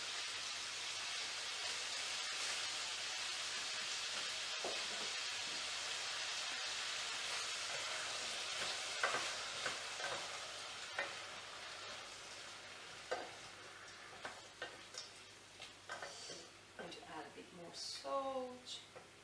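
Onion sizzling in a frying pan, with frozen peas added for a vegan pea soup, gives a steady close hiss and stirring scrapes that run under a speaking voice throughout.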